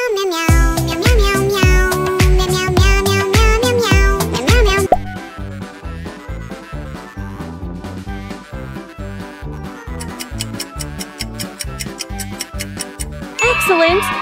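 The Bongo Cat meme song plays loudly, with a bright melody, meow-like tones and a steady, quick percussive beat running throughout.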